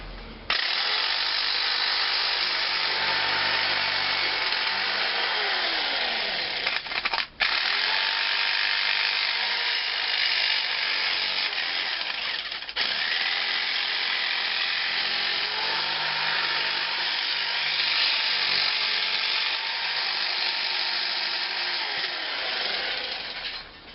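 A cheap £20 Screwfix jigsaw saws through sheet metal for a handmade rose, a continuous loud rasping buzz with a brief interruption partway through.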